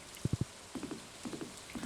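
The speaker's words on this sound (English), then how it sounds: "Oh, that is a frog making that sound, by the way." A frog croaks in the Stardew Valley video game on a rainy day, giving soft, low, quick triple croaks that repeat in even groups over a faint rain-like background.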